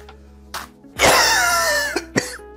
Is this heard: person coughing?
yes